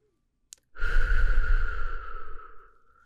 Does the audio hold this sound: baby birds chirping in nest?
no